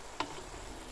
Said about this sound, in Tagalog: halu-haluin naman natin yung ating niluluto